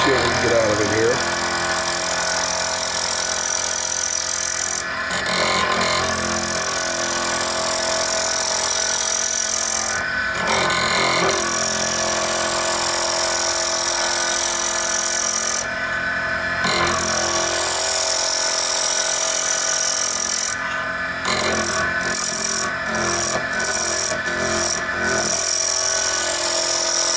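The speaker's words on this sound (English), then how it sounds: "Speed up our lathe a little bit. Now let's take a bite of it and see what we can get out of it here." A wood lathe spins a polyester resin pen blank with a steady mechanical hum, broken by periodic scraping bursts as the tool bites in, while a person talks over it.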